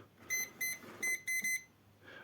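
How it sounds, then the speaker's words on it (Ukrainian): A FiedSide 16-line 4D laser level sounds its warning when the horizon is disturbed, five quick high electronic beeps in an even rhythm, close and clear, with a faint sound just after. "Воно блимає, якщо пищить, точніше подає звуковий сигнал, якщо порушується цей горизонт"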